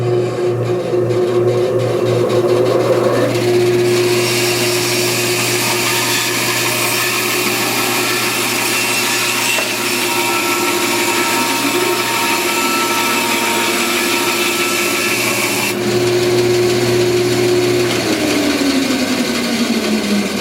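A Vevor 14-inch bandsaw cutting a piece of wood: a loud, constant motor hum joined by a harsh, steady cutting roar that runs for most of the clip, then eases back to the idling motor near the end.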